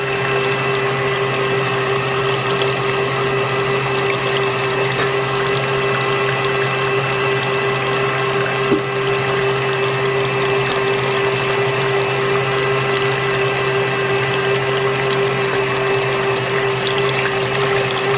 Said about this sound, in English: I'm going to add my last cup of milk here